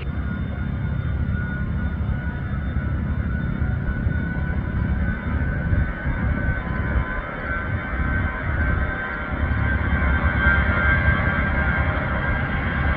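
An Allegiant Airbus A319 departing Cherry Capitol Airport in Traverse City, a continuous loud roar of jet engines at takeoff power, steady and broad, swelling slightly near the end with no voices over it.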